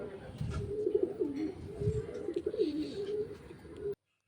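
Pigeons cooing close by, a run of soft repeated rolling coos over a low background murmur.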